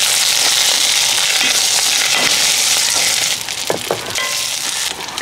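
Ginger garlic paste and curry leaves fry in hot oil for a Kerala-style chickpea curry, a loud, steady sizzle crackling throughout with brief scraping stirs near the end.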